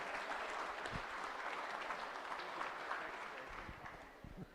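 A crowd at a Charolais youth cattle show claps for the judge, a sustained wash of applause that softens gradually near the end, with a voice or two faintly underneath.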